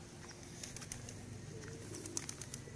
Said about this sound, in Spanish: Son cientos y cientos de palomas que se encuentran en la actualidad desprotegidas.